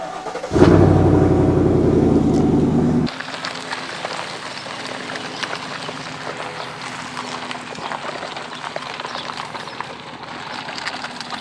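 Vehicle towing a Camco Rhino tank to a dump station; a loud engine burst lasts about three seconds, then a quieter rolling rumble with light rattles continues.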